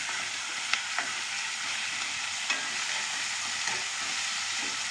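Onion and ginger fry in a pan while a ladle stirs them, giving a steady close sizzle broken by a few sharp scrapes and taps from the ladle.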